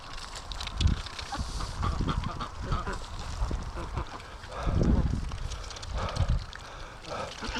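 Free-range ducks honk and quack in loud, irregular bursts close by, several birds calling over one another against outdoor background noise.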